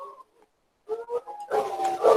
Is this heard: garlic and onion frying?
no